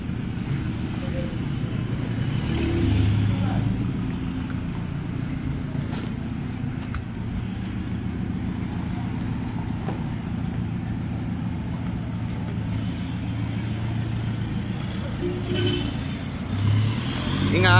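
A Toyota Hilux fitted with a full exhaust and resonator pulls away, a low, moderately loud exhaust rumble that holds steady with slight swells, with outdoor background noise and people talking faintly.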